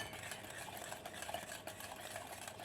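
Carrot cake batter with brown sugar is stirred in a bowl, giving a steady, close scraping and swishing that carries on without a break and without talk.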